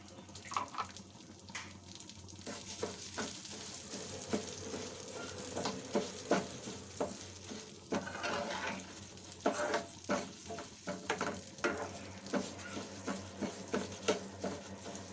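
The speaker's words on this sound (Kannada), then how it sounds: "ಅದೇ ತುಪ್ಪದಲ್ಲಿ ನಾನೇನು ಹೆಸರುಬೇಳೆ ತೆಗೆದಿಟ್ಕೊಂಡಿದ್ದೆ ಇದನ್ನು ಸ್ವಲ್ಪ ಫ್ರೈ ಮಾಡ್ಕೊಳ್ಳೋಣ." Moong dal frying in ghee for payasa, a steady broadband sizzle with scattered clicks and scrapes from stirring, close and fairly quiet throughout, no talking.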